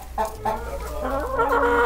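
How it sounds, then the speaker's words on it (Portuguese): Flock of around 150 farm chickens in a henhouse on a rural property, overlapping clucks and squawks, loud and close with continuous barnyard noise and no talking. "Olha as galinhas."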